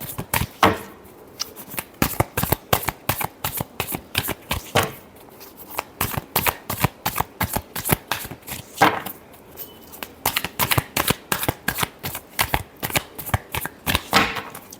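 Tarot cards shuffled by hand in a long run of crisp, rapid riffling flicks, close and fairly loud, with a few short pauses between bursts and no voice.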